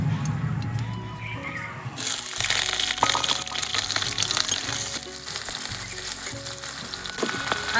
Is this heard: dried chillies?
yes